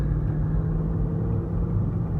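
A 2005 Mercedes-Benz S55 AMG cruising on the road gives a steady, smooth engine and road drone at an even level, with no voices.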